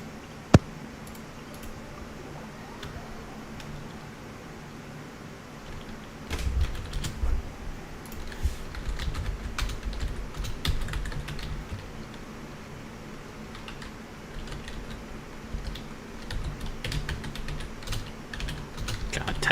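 A computer keyboard clatters in steady, uneven bursts of key presses that run on for the whole stretch. The typing grows busier partway through and stays close and moderately loud.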